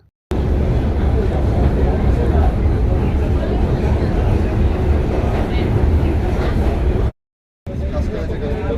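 Inside a moving local train, a loud, steady rolling rumble with faint rattling carries on throughout, with voices mixed in, and the sound cuts out briefly near the end.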